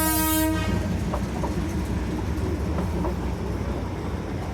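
A toy train on a hill railway from Dawaipani sounds a loud horn at the start, then keeps up a steady rumble and wheel clatter close by, with no voices.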